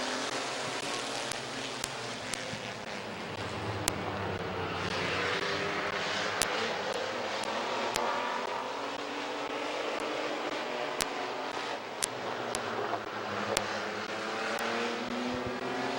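Race cars at Midvale Speedway roar off together at the green flag for the B feature, a dense, sustained engine drone holding steady for the whole stretch with a few sharp transient clicks over it and no talk.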